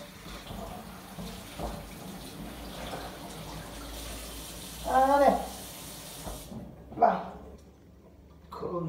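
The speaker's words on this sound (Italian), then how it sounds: "gli do una bella sciacquatina con l'acqua bella fresca, fresca, fresca" Food being rinsed under cold water running from a kitchen tap, a steady broadband gush with occasional splashes and clatter, nearby and moderately loud, ending in a quieter stretch with a few brief knocks.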